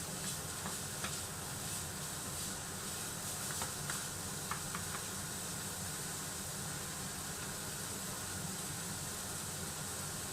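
Carrots fry and get stirred in a pan for baked cheese fried rice, a soft continuous sizzle with faint scrapes and light ticks of the utensil, quiet and close, with no talk.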